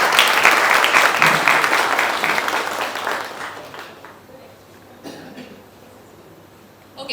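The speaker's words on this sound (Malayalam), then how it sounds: "നമുക്ക് എല്ലാവർക്കും കൈയടിക്കാം പ്ലീസ്" An audience at a dance school inauguration claps loudly and densely, then the applause tapers off into quieter room noise with a cough or two and faint murmuring.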